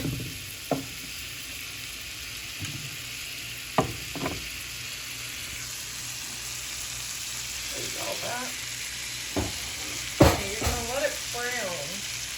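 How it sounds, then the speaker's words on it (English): Salted butter sizzles quietly in a pan as it starts browning for a sauce, a soft steady crackle with a few sharp clinks and stirring scrapes, and brief bursts of nearby speech toward the end. "So first, we're gonna put in the salted butter."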